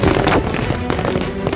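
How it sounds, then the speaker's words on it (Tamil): Firecrackers burst in a dense, loud crackling barrage at a street celebration in Karur, with rapid overlapping pops continuing throughout. "கரூரில் வெடிக்கப்பட்ட பட்டாசுகள்."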